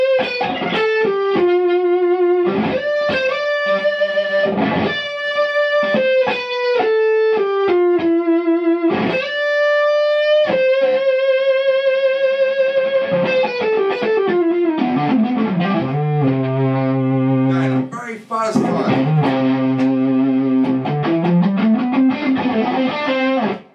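Stratocaster-style electric guitar driven through a Seymour Duncan Dirty Deed distortion pedal, playing loud, saturated single-note lines and ringing sustained notes with dense harmonics, then lower chugging passages, continuous with no talking.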